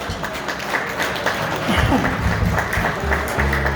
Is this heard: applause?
yes